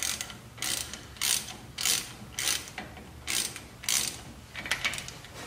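Hand ratchet tightening brake caliper bracket bolts on a Chevy Silverado, clicking in about nine short, sharp bursts of ratcheting, each roughly half a second long and evenly spaced, close and alone with no talk.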